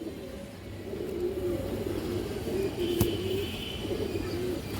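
Domestic pigeons in a fancier's collection coo softly and repeatedly, several low rolling calls overlapping at close range over a steady background hum.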